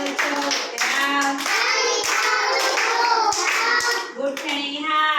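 Children at an Anganwadi preschool chant an action song together while clapping their hands; a few sharp, scattered claps cut through the steady, close sung voices.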